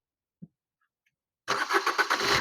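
A 2019 Maruti Suzuki Vitara Brezza VDI diesel engine fires on a single crank after a brief click, settling at once into a close, loud, gently pulsing diesel idle.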